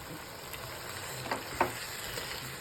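Curry leaves hit hot oil in a pan for an egg and drumstick curry, setting off a steady soft sizzle with a couple of brief louder crackling pops, close and moderately quiet.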